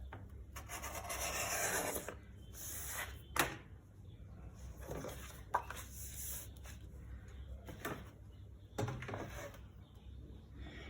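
Scissors or a blade cut through a 4 by 12 inch sheet of paper for a handmade purse card, giving soft rasping, rubbing strokes in several bursts with brief pauses, close and fairly quiet.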